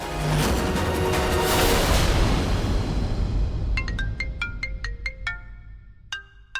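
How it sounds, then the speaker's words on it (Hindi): A phone ringtone chimes loudly in repeated bright notes, rising out of a noisy rumbling background that fades as the melody continues. "दादी का फोन"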